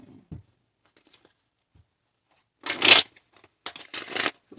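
Tarot cards being shuffled in short riffling bursts, one long riffle then two quicker ones, close and crisp against near silence, with a few soft taps before them.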